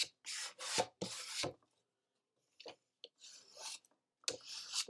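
Sanding by hand on a wooden keepsake box lid: several close, raspy rubbing strokes in short bursts separated by pauses, fairly quiet and with no talking.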